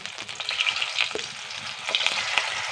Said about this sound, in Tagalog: Pwede natin ilagay ito ating binislad na tilapia mga kanter.